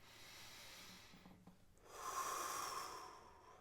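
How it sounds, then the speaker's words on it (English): A person takes slow, quiet breaths, a soft inhale followed by a longer, airy exhale, faint and close with no other sound. "take a few breaths"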